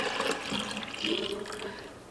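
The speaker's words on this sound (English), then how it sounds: "we're going to pour if I could do it without splashing, pour the milk" Creamy whole milk is poured into a pot with a steady splashing liquid stream that runs continuously and fairly close, with no talking.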